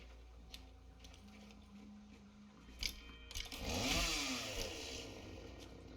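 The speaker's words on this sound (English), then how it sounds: "are we ready to see what the chainsaw can do?" A chainsaw with a retractable blade in the video game Satisfactory revs up and whirs, rising to a loud buzzing burst midway and then settling into a steady drone, with faint clicks before it.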